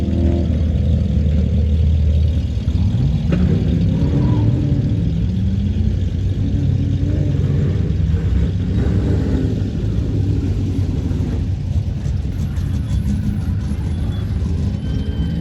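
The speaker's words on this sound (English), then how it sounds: "Nick's out there in Todd Chevelle, coming straight at us, about halfway through the course" A Chevrolet Chevelle runs an autocross course, heard as a continuous rumbling V8-style engine roar that rises and falls with throttle, moderately distant and steady throughout.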